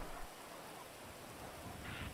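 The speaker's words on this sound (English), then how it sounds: "Oh, it's raining again" Rain falls in a racing video game set at Alamo Sea, a dense, steady patter on surfaces with a low rumble beneath it, moderately loud and unbroken.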